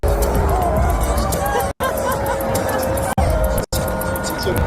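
A stadium crowd boos as the other team is announced during a warm-up, a loud, continuous roar of massed voices and babble broken by a few very brief dropouts.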